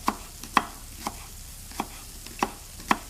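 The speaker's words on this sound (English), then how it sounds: "I'm just going to get on with a bit of chopping." A knife chops a spring onion on a board in a kitchen, sharp distinct thuds landing at an uneven rhythm, about eight strikes, close and clear against a faint background with no talking.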